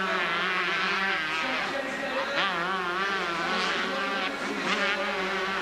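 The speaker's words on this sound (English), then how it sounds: "the engines scream through the tunnel, burst back out onto the arena" Several 125cc supercross motorcycle engines scream loud and close in an indoor arena, revving and rising in pitch continuously, with harmonic whine layered over steady crowd noise.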